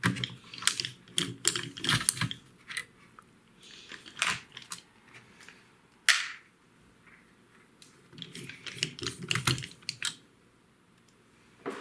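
Small screws are removed from an Original Xbox motherboard, with close, light clicks and taps in irregular bursts separated by brief pauses.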